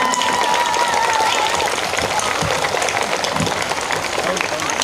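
Enthusiastic clapping from a school annual day audience, responding to a chief guest's request, fills the clip as dense continuous applause from start to finish, with crowd noise mixed in.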